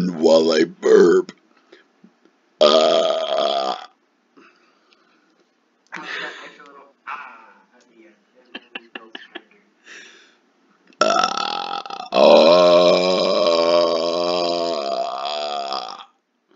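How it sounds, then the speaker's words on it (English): A person burps repeatedly and loudly up close, with several long drawn-out belches separated by pauses and short clicks, one stretching several seconds. "I really enjoy talking while I burp."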